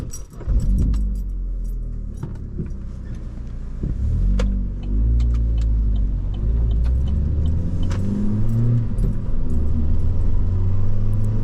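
An Opel Adam with a 1.4-liter naturally aspirated inline four-cylinder engine drives on the road, its loud engine drone rising and falling through gear changes, with some close interior rattles and ticks.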